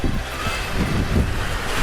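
A sailboat moving under sail in 13 knots of wind, making about 7.5 knots, gives a loud, constant rush of water and wind buffeting against the microphone, with no talking.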